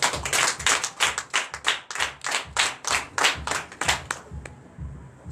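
A church congregation in Comè, Benin claps in a steady unison rhythm, about three loud claps a second, then stops abruptly near the end.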